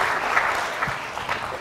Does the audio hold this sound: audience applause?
yes